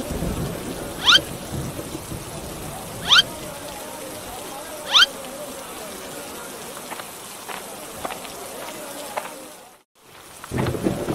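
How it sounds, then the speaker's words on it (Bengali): Steady rain falls throughout, a continuous hiss with a few sharp drip or splash sounds standing out, and a brief gap near the end. "আজ কতদিন ধরে টানা বৃষ্টি নামছে"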